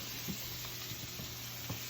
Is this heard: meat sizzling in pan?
yes